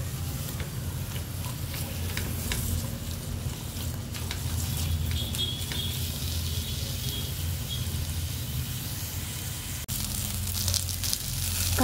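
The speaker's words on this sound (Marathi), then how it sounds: "तेल गरम झालं की कांदा टाकून घ्यायचा आहे आपल्याला" Onion and tomato frying in hot oil for matar paneer, a steady close sizzle and crackle running throughout with faint stirring scrapes, no talk.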